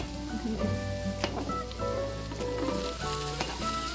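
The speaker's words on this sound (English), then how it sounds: "We're gonna saute asparagus in there." Asparagus sautéing in a pan with olive oil, butter and onions, a steady close sizzle and crackle with faint stirring and utensil clicks, no talking.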